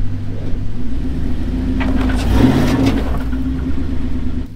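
The engine of a totaled Lincoln Navigator rumbles up close as it is driven, rising into a brief rev midway through before settling back to a low, steady idle-like drone.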